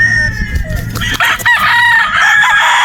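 Sweater Boston bloodline gamecock rooster on a game farm in Batangas crowing loudly and close, a single long strained crow rising over background clucking and farm noise.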